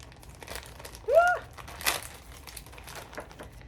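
A taped plastic bag of lace doilies is handled close up, giving one sharp crinkle burst and a few lighter rustles against a quiet room.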